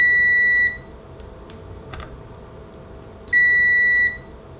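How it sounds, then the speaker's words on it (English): Two clear, high-pitched electronic beeps from a multimeter continuity test on a humbucker pickup, each lasting under a second, separated by a short quiet gap with faint clicks in between. "use the continuity test, which makes the multimeter beep"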